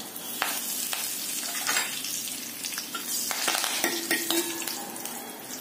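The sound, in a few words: tempering with dried chillies and curry leaves frying in oil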